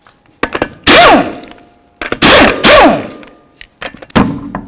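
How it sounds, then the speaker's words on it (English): Impact wrench spinning off the 19mm lug nuts on a Jeep Liberty wheel: loud, close bursts of whirring rattle with rising and falling pitch, broken up by clanks and thuds of the tool and nuts. "So first we're going to remove our 5 19mm lug nuts."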